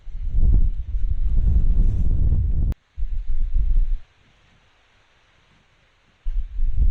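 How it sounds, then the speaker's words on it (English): Strong gusts at Fort Worden buffet the microphone in heavy low roaring bursts that cut out abruptly between lulls, loud and close, with no voices. "It's super windy out"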